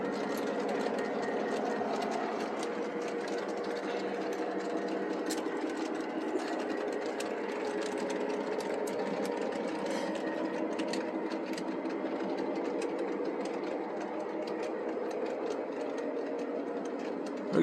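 A running train, likely a model or small-scale setup, hums and rumbles steadily and continuously, with faint clicking and rattling, a sustained even drone throughout with no voices.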